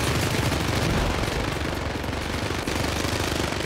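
Relentless rapid gunfire in the co-op shooter game Syndicate, a loud unbroken stream of automatic shots with no pauses or talking over it.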